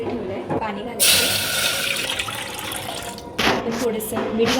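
Water gushes into a cooking pot on a gas stove set to full flame while spinach pulao is being made, a steady rushing pour with a louder burst near the end, with a voice talking alongside.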